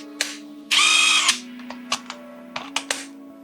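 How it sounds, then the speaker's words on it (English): A Makita battery is pushed into a GISAM 1800Nm impact wrench: a loud, sustained rasping burst near the start, followed by several short, sharp clicks and knocks as the pack seats. "let's see how the Makita battery fits in here."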